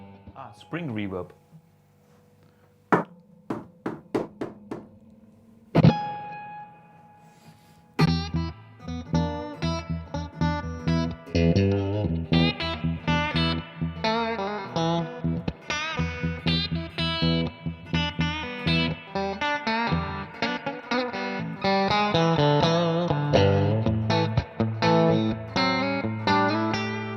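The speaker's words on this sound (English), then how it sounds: "Spring reverb." An electric guitar plays through an amp's spring reverb, a few sparse plucked notes that ring out, then a dense run of picked notes and chords with a washy splashing tail, loud and close.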